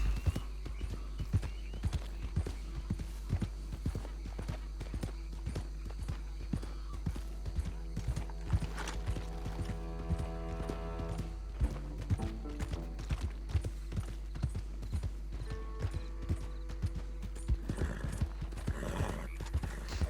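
Rhythmic clip-clop of horse hooves at a quick pace in Red Dead Redemption 2, with occasional snorts or whinnies over a low steady hum.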